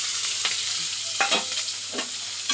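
Onion and green chilli with black cumin fry in oil left from frying shrimp, a close, steady sizzle broken by a few sharp stirring scrapes, no voices.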